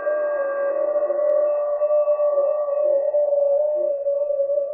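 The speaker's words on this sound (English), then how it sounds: "FT8 CQ sounds like this." FT8 digital amateur radio transmission, a steady set of clean sustained tones holding level and loud for several seconds with slight warbling, no voice.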